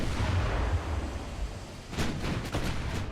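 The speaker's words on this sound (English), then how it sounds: "He's been pummeling me with 13-inch shells." Heavy 13-inch battleship guns boom in Ultimate Admiral: Dreadnoughts as a deep, rumbling barrage, followed later by several sharper distant reports in quick succession.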